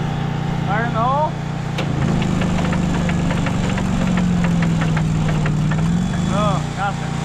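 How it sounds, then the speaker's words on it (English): An abandoned Kenworth C500 diesel truck engine cranks steadily over without firing, a loud continuous low churning rumble that holds for several seconds, with people talking over it. "She's cranking though."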